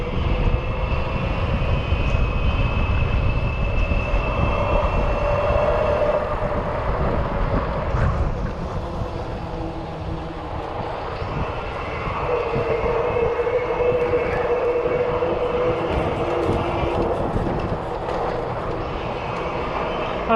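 A Rize RX PRO 1000 watt mid drive e-bike hums under throttle on a windy ride, a steady motor whine blended with heavy rushing wind noise, continuous and loud throughout.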